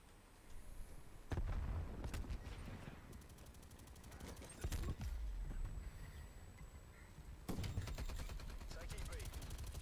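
Flashbang grenades going off in a video game, several sharp loud bangs spaced a few seconds apart, each followed by a ringing whine and crackling tail, heard alongside game sounds.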